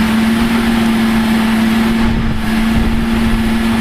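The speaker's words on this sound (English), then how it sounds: "So this engine is just cruising along, probably thinks it's doing about 40 miles an hour right now, and it could pump like this all day." A Darley tactical pumper fire truck on a CV515 chassis runs its engine at about 1750 RPM on the governor while pumping foam, a loud, steady droning hum with a constant pitch and no breaks.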